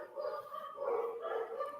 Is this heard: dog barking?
yes